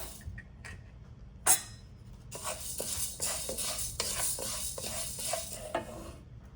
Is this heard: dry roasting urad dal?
yes